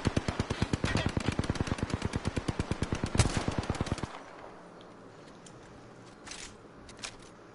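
Rapid automatic gunfire in Apex Legends rattles off in a fast, even burst of loud close shots for about four seconds, then cuts off, leaving quiet game ambience with a couple of faint distant pops.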